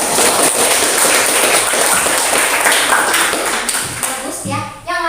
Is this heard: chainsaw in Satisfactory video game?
no